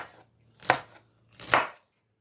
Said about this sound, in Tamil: நல்ல மெல்லிதாக அரிந்து கொள்ளுங்க.